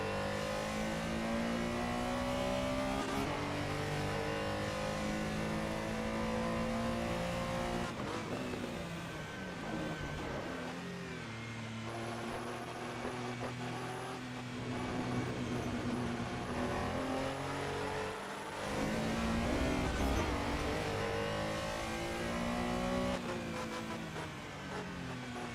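A 3-liter race car in the Assetto Corsa sim revs hard through the gears, its engine note climbing and dropping repeatedly with shifts and lifts, loud and continuous for the whole stretch.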